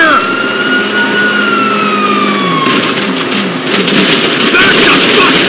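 Police sirens wail in GTA V, a loud rising and falling tone close by over engine noise, with shouting voices joining partway through.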